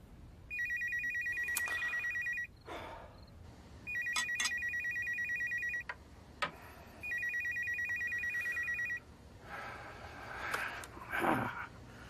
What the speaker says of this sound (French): Ce n'est pas une heure appropriée pour téléphoner à qui que ce soit, Elios.